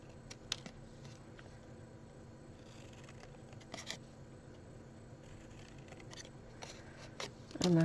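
Scissors snip around a small paper box lid, cutting in along all four sides with a few quiet, sparse clicks and crisp paper cuts close by in a hushed room.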